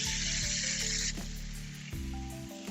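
A sourdough pancake sizzles steadily in a hot pan right after being flipped, a dense close hiss that runs the whole time and eases slightly partway through, with faint tonal background music beneath.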